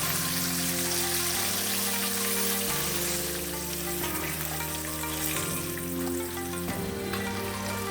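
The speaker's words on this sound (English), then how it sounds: "Let these fry for about a couple more minutes" Chicken pieces for orange chicken frying in hot oil, a steady, continuous sizzle that stays loud and even throughout with no talking.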